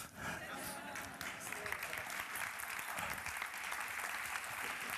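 Audience applause fills a conference hall after a closing keynote, a dense, steady wash of many hands clapping at close range that holds for the full stretch.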